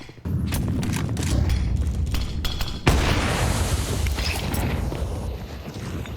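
Grenades going off during a competitive Counter-Strike match: a dull rumbling burst, then a sharp louder blast near the middle that trails into a noisy decay, with scattered gunfire and clicks around it.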